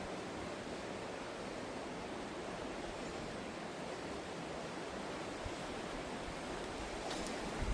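River water rushing beneath an old arched bridge, a steady broadband roar heard from above, continuous and even throughout with no voices.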